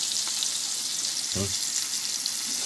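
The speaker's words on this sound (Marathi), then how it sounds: "तेल उडतोय" Pomfret frying in hot oil gives a steady, close crackling sizzle with spitting splatters throughout, and a brief low voice sound cuts in midway.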